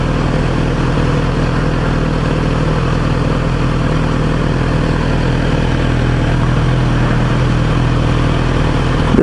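A Kawasaki Z900RS motorcycle engine runs steadily at close range while riding through Osaka, a constant rumbling drone with wind noise and no noticeable changes in pitch.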